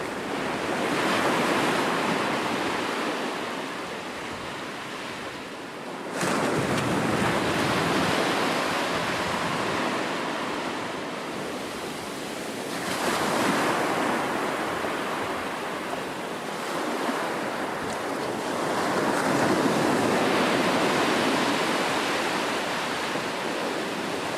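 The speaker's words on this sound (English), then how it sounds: "Many people find the sound of waves very relaxing." Ocean waves roll in and wash against the shore in slow, repeating surges, steady and fairly loud with no voices.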